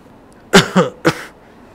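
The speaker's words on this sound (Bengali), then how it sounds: "এবং ছাড়ার সময় একটু কাশি দেবেন মুখে হাত দিয়ে" Quiet pause during a held breath, then a short burst of three quick coughs into a covering hand, close and fairly loud, with silence after.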